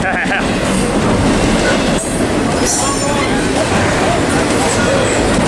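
A long freight train rolls past at close range in Fullerton, a loud continuous rumble with wheel clatter and occasional squeal, while people speak over it.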